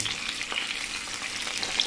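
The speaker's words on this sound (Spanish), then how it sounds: "Y aquí los vamos a dejar freír, pero vamos a estar revisando para que no se nos vayan a quemar." Onion, garlic and three jalapeño chiles fry in a pan for a green mole with chicken, giving a steady, close, crackling sizzle that holds evenly with no talk.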